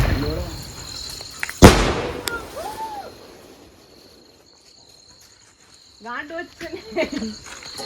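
A sharp firecracker bang near the start during Diwali, followed by crackles and fizzing pops, then a quiet lull before a burst of chatter at the end.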